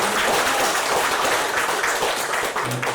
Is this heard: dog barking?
no